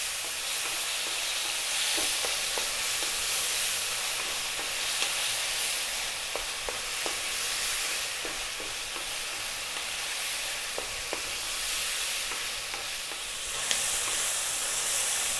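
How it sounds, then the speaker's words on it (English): Marinated pork in soy and fish sauce sizzles hard in a pan over high heat, a steady dense hiss with occasional sharp crackles and pops, close and continuous with no talking. "we're going to pour it all in, and we're going to cook it on a high heat for about another 4 or 5 minutes"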